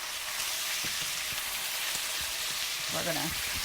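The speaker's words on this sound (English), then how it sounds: "Now that's popping grease there." Grease sizzles and pops steadily in a hot pan while almond chicken stir-fries, a continuous bright hiss dotted with faint crackles, and a voice speaks briefly near the end.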